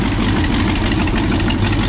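Steady, loud idle from a 1968 Ford F100 truck engine after it has been cranked up, a close, even low rumble with a faint knock and no talking.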